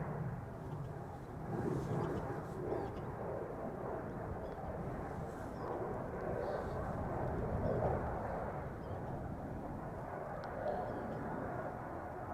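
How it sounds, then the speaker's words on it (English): A Cargolux Boeing 747 taxis at Schiphol Airport, a steady low engine rumble and roar heard from a distance, with faint wind noise throughout. "Cargo Lux 747 on the move."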